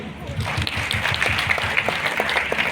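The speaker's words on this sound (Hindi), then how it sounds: "पुअर मजदूरी करने वाली कैटेगरी में एक जोरदार ताली इनके लिए" A room of people claps together in dense, continuous applause, fairly close, with a voice briefly audible over it.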